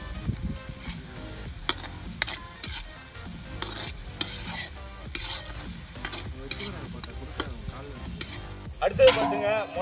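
Ginger paste frying with onion and tomato in a pan, a steady sizzle broken by repeated clinks of stirring, close and moderately loud, with a louder burst of sizzling near the end.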